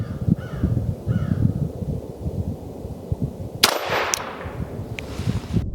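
A single sharp .22 Long Rifle shot from a Ruger Wrangler revolver fired into a ballistic gel head, cracking loudly near the microphone amid outdoor ambience, with crows cawing before it.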